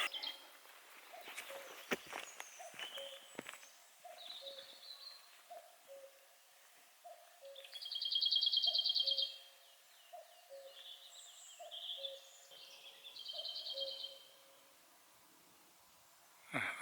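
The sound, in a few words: cuckoo calling in the forest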